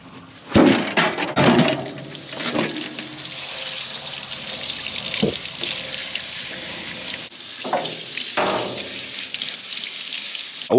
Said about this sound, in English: Wash her udder first to make sure that I'm not getting little pieces of dirt or mud dropping in the bottle as I'm milking her.